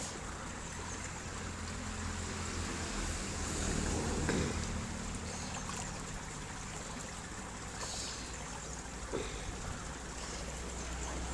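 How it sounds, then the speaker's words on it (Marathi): Cold water flowing in an open outdoor channel makes a continuous soft rushing and trickling wash, steady and fairly quiet throughout with slight swells and a few faint splashes. "निसर्गातलं वाहतं पाणी, काय मजा आहे ना बघा."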